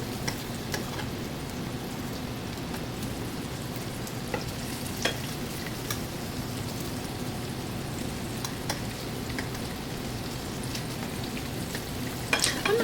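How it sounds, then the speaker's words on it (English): Andouille sausage fries in a pan for red beans and rice, with a constant close sizzle broken by scattered pops and utensil clicks. "I'm adding my andouille sausage in."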